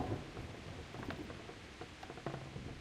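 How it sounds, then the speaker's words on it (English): Rain falls in the video game Kingdom Come Deliverance, a faint, soft patter with a low rumbling wash beneath it, steady across a short stretch with no voices. "Oh, it's raining."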